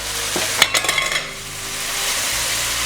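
White rice being sautéed in a hot pan, a loud steady sizzle with a burst of scraping and stirring clatter early on before settling into continuous frying.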